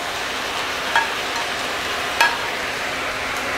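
Ground pork and Baguio beans sautéing in a pan give a steady, close frying sizzle, with two brief clinks of a utensil against the pan partway through; no one speaks.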